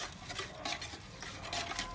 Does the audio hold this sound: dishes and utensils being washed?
yes